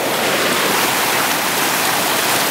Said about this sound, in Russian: Ручей Кривун